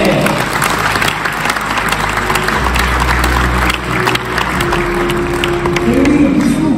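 Dense, steady audience applause at a Vendée Globe skippers' presentation, loud and sustained throughout with scattered cheers mixed into the clapping.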